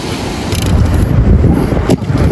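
Strong wind blows at sea over a fishing boat, a loud, rough, continuous rush and buffeting with no pause, close to the microphone.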